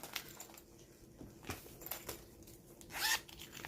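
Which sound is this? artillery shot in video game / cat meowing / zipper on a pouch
zipper on a pouch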